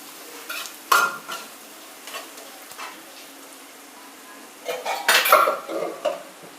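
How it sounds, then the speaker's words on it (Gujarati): A spoon clatters and scrapes against a hot metal pan while spices are stirred to temper dal for Gujarati-style sambar. Scattered clinks come early, then a louder cluster of clanks near the end over a faint sizzle. "તો આપણે દાળનો વઘાર કરી લેશું."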